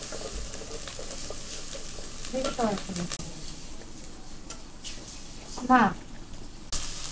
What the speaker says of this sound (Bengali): আদা জিরে মশলাগুলো ভালোভাবে কষাই নিচ্ছি